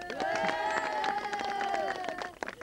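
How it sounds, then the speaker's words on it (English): A crowd at a 1984 cup match in Westport, Mayo, Ireland claps for the losing team, a dense burst of applause with voices and tonal cheering mixed in that thins out near the end. "A big round of applause for the losing team"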